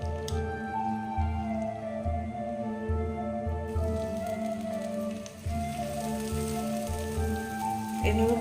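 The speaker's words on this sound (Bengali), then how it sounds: "মাখিয়ে নিয়ে এক এক করে দেবো তেলে।" Makhana pakora fry in hot oil with a steady crackling sizzle and bursts of bubbling, close and moderately loud, with soft intermittent thumps beneath.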